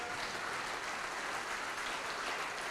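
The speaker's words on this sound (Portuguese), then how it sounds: "Vamos aplaudir ao nome de Jesus." A church congregation claps steadily at a dense, even pace, a continuous wash of many hands at moderate distance with no talking.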